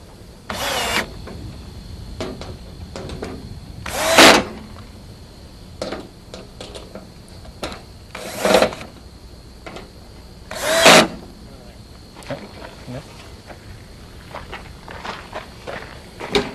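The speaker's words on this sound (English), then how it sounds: "shift the rails into position so that they line up evenly and tighten the screws down firmly." Screws being driven into the top rails of an Atlantic Pools round above-ground pool with a power tool: several short whirring bursts spaced a few seconds apart, with quieter clicks and handling noises in between.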